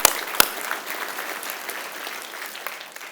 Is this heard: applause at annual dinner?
yes